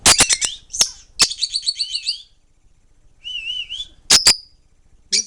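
A pet lovebird at home chirps alone in sharp bursts of high, clear tweets and whistled trills, with quiet pauses between the calls.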